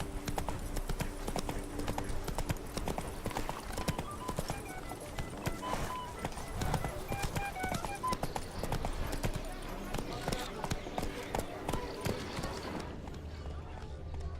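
Roach, the horse in The Witcher 3: Blood and Wine, trotting with continuous rhythmic hoof clip-clops under game music and spoken dialogue.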